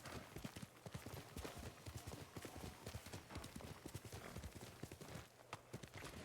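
Steady, rapid hooves clip-clop on hard ground in the video game Ghost of Tsushima, a horse moving at a brisk, even pace throughout.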